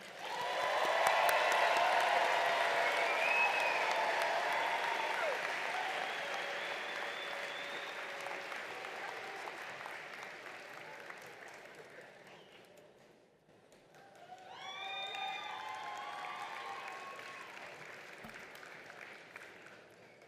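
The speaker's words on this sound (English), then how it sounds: "Please give an extra round of applause for Victoria Addison" Audience applause fills a hall at a university nursing and public health graduation ceremony, loud at first and gradually fading, then a brief renewed burst of clapping with a voice speaking over it.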